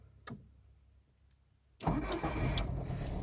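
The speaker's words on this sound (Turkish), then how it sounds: "Araç içinden çalıştırma kısmını gösterelim." A carbureted Skoda Felicia running on LPG is started from inside the car. After a quiet moment and a faint click, the engine cranks and catches about halfway through, then settles into a close, steady idle.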